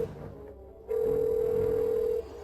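A telephone ringback tone sounds on a call that goes unanswered: a single steady electronic tone lasts over a second, then cuts off, with quiet background before and after.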